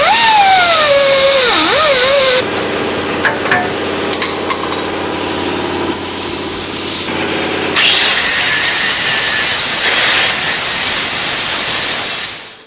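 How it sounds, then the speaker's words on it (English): A muffler tail spout pipe being sawn off on a quiet muffler kit for a John Deere Gator 625i side-by-side: a loud, steady tool whine runs through the middle, with rubbing and grinding noise after it, no talk. "now that we've got our pipe cut off"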